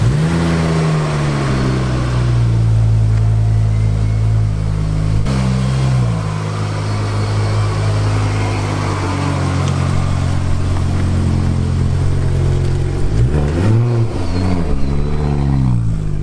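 A Ford Focus ST pulls away across a detailing yard toward a wash bay, its engine a close, loud steady drone with a low hum, rising briefly in pitch as it revs near the end.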